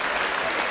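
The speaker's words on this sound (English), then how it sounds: "that's the first time I've ever received such applause" Members of a parliament applaud in the chamber, a dense close wash of many hands clapping at once, loud and steady for the whole brief moment.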